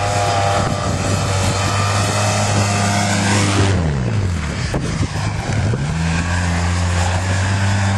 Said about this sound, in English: Big Pat whipping the Expedition.